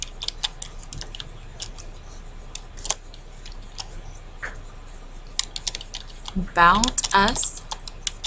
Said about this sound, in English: we want to select it and type home